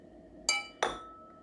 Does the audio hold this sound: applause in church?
no